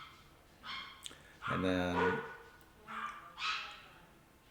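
Several dogs bark in short bursts spread across a few seconds, fairly close, with someone talking at the same time.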